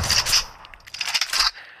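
Shotgun reload action for an M1887 in the Free Fire video game: a few sharp metallic clacks and scraping mechanical bursts, close and moderately loud, with brief pauses between them and no talk.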